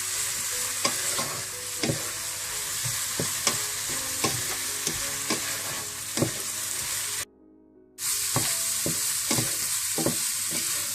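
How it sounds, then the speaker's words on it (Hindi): Vegetables stir-fry on high heat in a pan for Chinese rice, with a loud continuous sizzle punctuated by rhythmic spatula scrapes and knocks and one brief pause before the frying resumes. "सब्जियों को भी थोड़ा सा भूनने के बाद आप चावल ऐड कर दें इसमें।"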